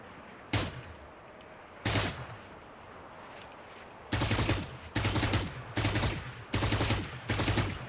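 Gunfire sprays in a video game: two separate loud bursts, then five rapid, evenly spaced bursts in quick succession, each sharp and close with no talking.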